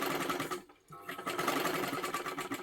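A sewing machine stitches silky fabric, a rapid close mechanical whir with a brief pause partway before it runs on steadily.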